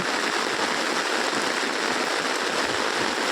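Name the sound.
heavy rain falling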